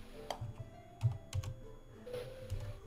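Quick keystrokes on a computer keyboard during an online golf game session, a steady uneven patter of light taps with a few sharper clacks, close and fairly quiet, with no talk.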